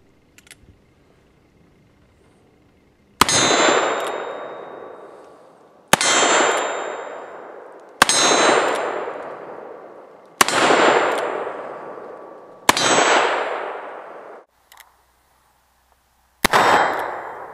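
A Century International Arms 1873 Pietta single action revolver with a 5.5-inch barrel fires six spaced shots, each followed by a bright ringing steel target that decays over about two seconds.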